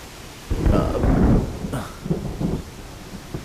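A deep rumble of thunder rolls in, swelling and fading, followed by softer low grumbles as rain begins to patter.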